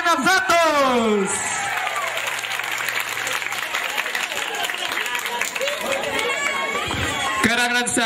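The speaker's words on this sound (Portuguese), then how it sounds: "E mais uma salva de palmas para a vencedora, Karina Santos!" A crowd at the Miss Interior Baiana 2016 pageant applauds the winner with sustained dense clapping and cheering, while a loud announcer speaks over it at the start and again near the end.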